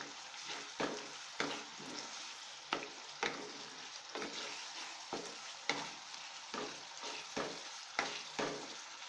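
Two bay leaves and black cardamom stirred in hot oil for aloo chole curry, a steady close sizzle broken by regular scraping spoon strokes every half second or so.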